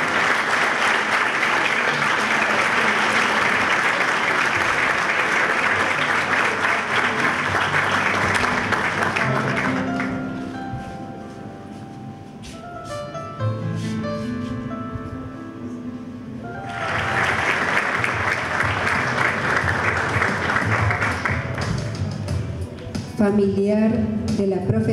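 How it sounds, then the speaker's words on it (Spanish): Loud audience applause at an anniversary ceremony honouring teachers, lasting about ten seconds, dropping away while a voice speaks through a quieter stretch, then rising again in a second burst near the end. "Un fuerte aplauso."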